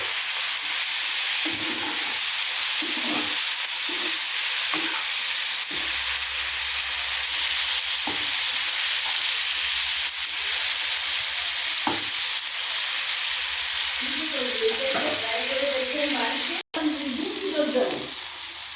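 Tomato fry with coriander leaves cooking in a pan, a loud, constant hissing sizzle up close with scattered stirring knocks, and a voice talking quietly underneath toward the end.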